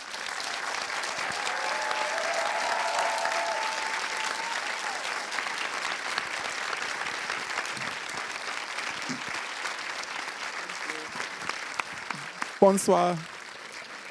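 An audience at the Series Mania 2021 masterclass gives a guest sustained applause, a dense, steady wash of many hands that thins toward the end, where a single brief spoken greeting is heard.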